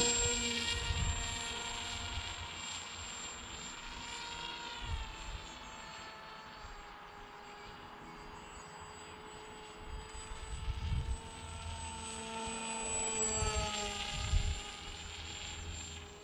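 An H-King AXN radio-controlled airplane flies after its launch, its small electric motor and propeller whining faintly at a distance, the pitch rising and falling as the plane passes and turns, with some wind noise.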